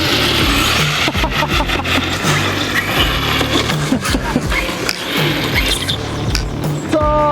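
A large, expensive RC truck drives with a loud, whirring electric motor and rough, fluctuating revving and surges, close up, with a brief exclamation near the end.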